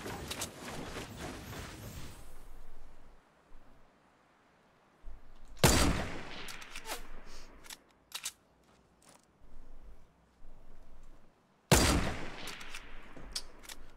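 Bursts of rapid video game gunfire crackle in short volleys, with one early stretch, two sharp loud bursts later and clicking mechanical sounds between, close and dry with no talk.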